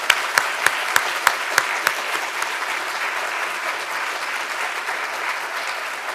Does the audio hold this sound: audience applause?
yes